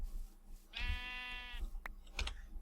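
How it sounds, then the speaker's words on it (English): A Minecraft sheep gives a single clear, drawn-out bleat close by, followed by a few short clicks and thumps of in-game movement. "I'm afraid I'm gonna have to murder 3 sheep now"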